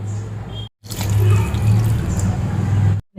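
About one and a half glasses of water pour steadily into a metal pressure cooker, a continuous splashing rush lasting a couple of seconds between brief silent cuts.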